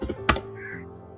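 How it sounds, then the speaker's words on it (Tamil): A few quick taps on a computer keyboard, a short cluster of near, crisp keystrokes followed by a faint trailing tone. "ஜஸ்ட் நான் டைப் பண்ணிட்டு இருக்கேன்."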